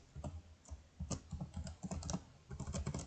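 Rapid, irregular keystrokes on a computer keyboard while entering a route and date into WinRx pharmacy delivery software, clicking in quick bursts with brief pauses, close and fairly quiet, with no talking.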